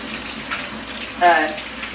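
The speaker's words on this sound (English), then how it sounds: "I gotta wash my hands off." Tap water runs briefly into a kitchen sink for hand washing, a soft splashing stream rising about halfway through over a low room hum, with no talking.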